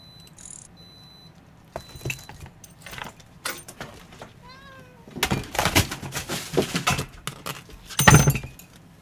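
A cat meows and objects clatter and tumble in quick bursts as things get knocked over, a few electronic blips in between, the crashes growing louder toward the end.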